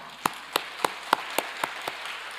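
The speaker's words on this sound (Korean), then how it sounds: "하나님께 감사 박수 올리겠습니다." A church congregation claps in thanks during a worship service, a slow, evenly spaced series of about seven distinct claps in unison, fairly faint against a quiet room.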